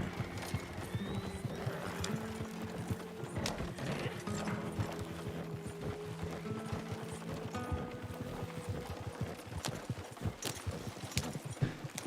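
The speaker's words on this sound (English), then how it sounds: "And there's a bunch of horses." Several horses clip-clop in the Red Dead video game world, with steady overlapping hoofbeats and creaking mechanical noise under a constant background.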